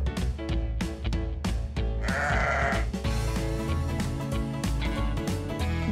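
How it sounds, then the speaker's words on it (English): A single sheep bleats loudly for under a second, sung over a bouncy, rhythmic children's farm-animal song with a steady beat. "Good work finding the sheep."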